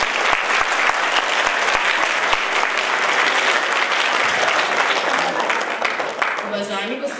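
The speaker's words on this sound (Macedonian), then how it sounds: "Молим аплауз за ове дивни ученики" Loud, sustained applause from an audience at a school ceremony, greeting a school choir, with dense steady clapping that fades slightly toward the end.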